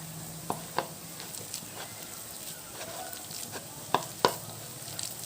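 Sliced onions are mixed with gram flour (besan) for pyaji, making quiet, sparse rustles and a few sharper clicks and taps spread unevenly across a soft background hiss, with no talking.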